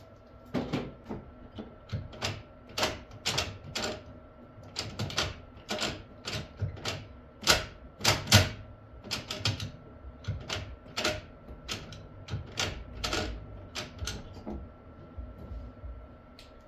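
Kobalt ratchet turning a bolt while a short shifter is installed on a Ford Focus ST, a rapid series of sharp clicking bursts in quick rhythmic strokes, close and crisp with brief pauses between runs.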